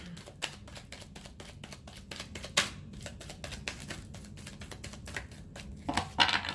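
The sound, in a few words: shuffling tarot cards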